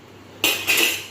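A metal kadai is gripped and shifted while cooking noodles with eggs, giving a sharp clank of cookware followed by a second scraping metallic rattle, close and fairly loud.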